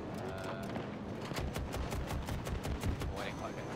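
Rapid tap-fired bursts from the LATV4's mounted gun in Battlefield 2042, a string of sharp close shots in short volleys over constant battlefield noise, with a voice speaking briefly amid the firing.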